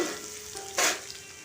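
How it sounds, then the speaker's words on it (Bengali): Soybean chunks, squeezed of water, fry lightly in hot oil, giving a steady soft sizzle with one brief louder hissing burst midway, close and alone without voices. "প্রথমে সোয়াবিনটাকে খুব ভালো করে জলটা নিংড়ে আমি দিয়ে দিয়েছি দিয়ে সয়াবিনটা হালকা ভেজে নেব"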